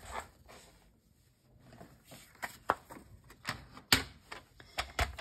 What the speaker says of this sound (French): Donc, on va prendre le massicot.